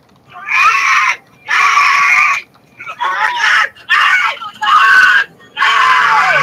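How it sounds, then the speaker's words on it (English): A screaming sound effect: about six loud, shrill scream bursts, each lasting under a second, broken by short silent gaps, close and alone. "Someone's screaming?"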